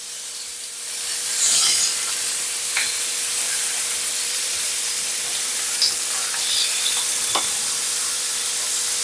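Lamb chops and zucchini sizzle steadily on a grill, a continuous close hiss with a few scraping clicks as the pieces are turned over.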